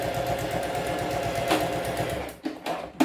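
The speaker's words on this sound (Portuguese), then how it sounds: "E é só seguir costurando, dar retrocesso no começo e no final, pra não sair essa costura" A sewing machine stitching a half-centimetre seam on a small fabric toiletry bag, a fast steady mechanical chatter close up, then stopping and starting in short bursts as it backstitches.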